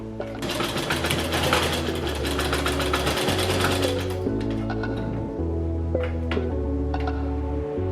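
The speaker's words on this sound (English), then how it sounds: "now that we have sewn those bodice pieces on the regular fabric, we'll do the same thing on the lining" A sewing machine stitches the lining of a dress bodice, its needle clattering quickly and steadily in long runs separated by brief pauses, up close with no talking.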